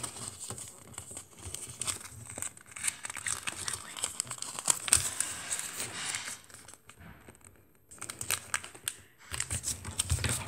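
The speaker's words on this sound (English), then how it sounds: "Fold, make sure to do nice, good creases." Paper being folded and creased by hand for an origami basket, with close crinkling, rustling and sharp pressing sounds coming in irregular bursts, pausing briefly before resuming.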